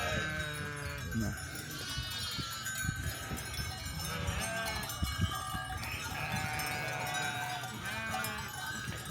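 A large flock of about 350 sheep bleats repeatedly in Carpathian mountain pasture in Zakarpattia, many overlapping calls near and far, over a steady rustle of animals moving about.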